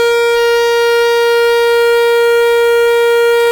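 Roland SE-02 synth lead patch holding a single sustained high-register note, a steady loud buzzy tone with rich harmonics that does not change, with no voice.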